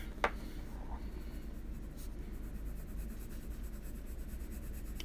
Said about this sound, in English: I'm using my polychromos pencils today, and right now I'm using warm gray 5.